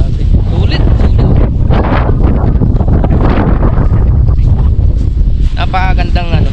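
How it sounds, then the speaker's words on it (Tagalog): Strong wind on a steep, high, paved mountain road buffets the microphone with loud, continuous roaring gusts, and a voice speaks faintly under the rush. "napakalakas ng hangin dito"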